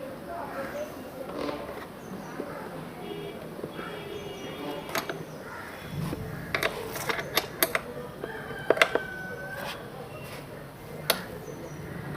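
Two bolts on a Kawasaki ZX10R rider seat are loosened anticlockwise with a hand tool, producing faint ratcheting clicks and sharp metallic taps over a low background hum.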